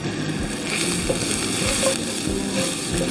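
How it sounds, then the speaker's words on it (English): Steady, dense sizzling of onions frying in a pan over moderately high heat, continuous crackle with occasional soft stirring sounds, close and fairly loud. "So they've been frying over a moderately high heat for about 5 minutes."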